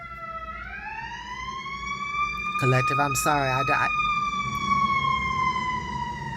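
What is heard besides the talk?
emergency vehicle sirens in the city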